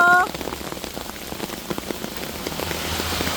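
Hail pelts down on surfaces during a storm in Manila, a dense and steady patter of hard impacts that stays loud and continuous throughout.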